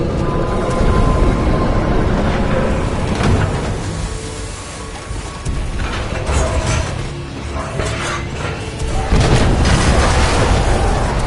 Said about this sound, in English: a series of explosions just weakened the manipulator arm.